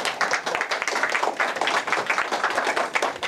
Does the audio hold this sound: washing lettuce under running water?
no